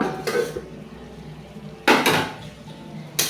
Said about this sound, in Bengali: আস্তে আস্তে করে মাঝে মাঝে খুলে নাড়বো ঢাকনা খুলে দেখবো